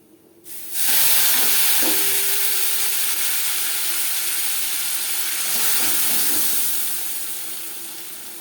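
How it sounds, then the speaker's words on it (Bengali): Cumin, bay leaves and slit green chillies hit hot oil with a sudden loud sizzle that keeps hissing steadily, swelling again briefly before slowly easing off. "জিরে ও তেজপাতা ভেজে নেব"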